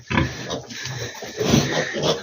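A sow and her suckling piglets on a farm grunt and squeal close by in a busy, overlapping stream of snorts and oinks.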